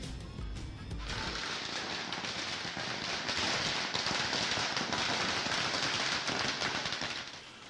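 Dense, continuous crackling bursts of firecrackers on Diwali evening in Delhi, loud and sustained throughout with overlapping pops and bangs, no talk.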